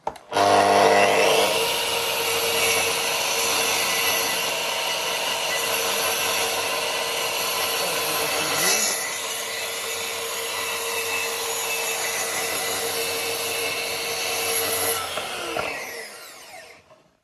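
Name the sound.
Makita SP6000J plunge saw cutting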